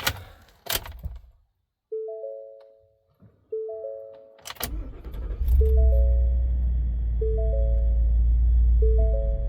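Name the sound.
2022 Ford F-250 truck engine starting up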